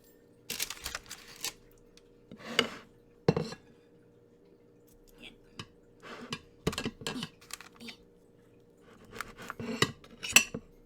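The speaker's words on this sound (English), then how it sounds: "Cut a piece of the coconut pandan." A knife cuts and scrapes through a coconut pandan yule log on a plate, giving scattered metallic clinks and taps with quiet pauses between them.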